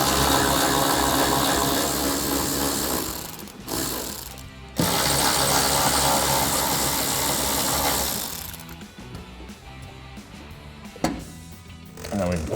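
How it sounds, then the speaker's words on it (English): A ratcheting 7mm socket wrench buzzes loudly and continuously while backing out rock guard bolts on a 2021-2023 Ford F-150, with brief pauses and a dense mechanical whir throughout. "we'll take that 7mm socket to remove our 2 bolts"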